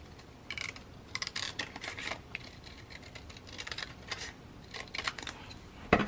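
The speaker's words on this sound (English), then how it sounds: "this little handy dandy tab right here. Let me go ahead and cut it out." Scissors snip out a small paper tab for a handmade mini album, a close series of crisp, irregular cuts and rustles with short pauses between strokes.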